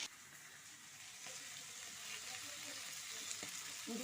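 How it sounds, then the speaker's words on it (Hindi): Raw peas frying in a pan for aloo matar sabzi, a soft, continuous sizzle heard close up at low volume with a few faint stirring clicks. "मटर भूनते हुए मुझे 5 मिनट हो गए हैं"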